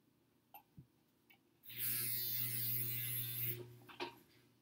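A sewing machine stitching a paper-pieced quilt block runs in one fast, steady whirring burst of about two seconds, set between quiet handling taps and a low background hum.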